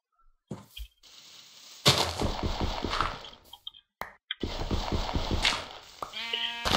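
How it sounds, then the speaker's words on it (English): Sheep bleating in the video game Minecraft, a couple of nasal bleats standing out against game sound effects and clicks, loud and close. "this annoying sheep that keeps eating my floor"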